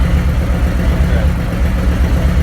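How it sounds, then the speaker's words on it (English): Motorcycle engine idling during an idle tune, a loud, steady low-pitched rumble with an even throbbing pulse close by, no voices over it. "Now, as it's idling, this is what's called an idle tune, this initial run-up."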